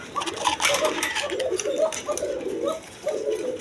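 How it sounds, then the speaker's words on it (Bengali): A pair of Angel pigeons cooing softly in a cage, with low rolling calls repeating steadily throughout alongside faint background chatter and rustling. "এখানে এক পেয়ার 8 এঞ্জেল কবুতর আছে"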